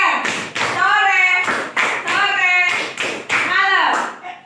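Sharp claps ring out in a rhythmic classroom clapping game, several bursts in a steady pattern, close and loud, with children's voices chanting along between and over the claps.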